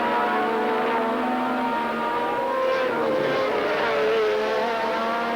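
Several open-wheel Formula One cars racing flat out at Brands Hatch in the 1979 Race of Champions, a continuous loud multi-engine howl with shifting harmonic pitches as they climb and swap through the gears.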